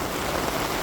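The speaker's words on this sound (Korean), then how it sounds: "이렇게 비가 오다 보니까 비가 내리는 소리 때문에 제가 하는 말이 잘 안 들릴 수도 있습니다." Steady rain falls hard and close, a dense even hiss of drops with no pauses and no other sounds.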